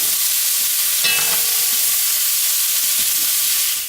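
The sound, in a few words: beef cubes searing in a pan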